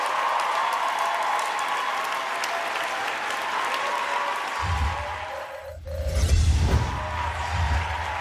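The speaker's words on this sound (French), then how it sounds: "Je vais vous prier de pouvoir applaudir encore une fois de plus pour eux" Studio audience applauding during a French-language TV prime-time show opening, a steady wash of clapping that swells louder toward the end, with no talk over it.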